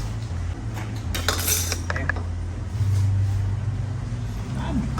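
Spoon and dish clinks from scooping curry at an outdoor Thai eatery serving Korat-style papaya salad and fried sausage, with scattered bright taps over a low hum of rain and background chatter.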